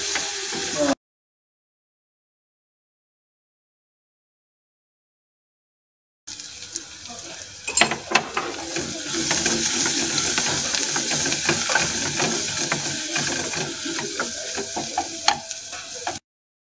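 Green beans sautéing in a pan with salt and turmeric for a beans fry curry, a steady sizzle and hiss with stirring scrapes, starting after a long silent gap.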